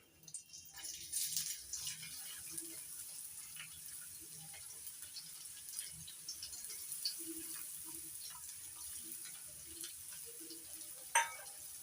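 Chopped onion going into hot oil with crushed garlic for a neem and eggplant dish, giving a steady, faint sizzle with light stirring and clinks throughout and one sharper knock near the end.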